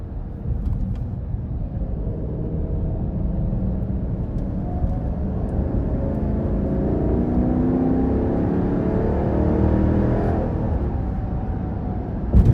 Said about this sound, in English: I love the exhaust sound. You put your foot into it.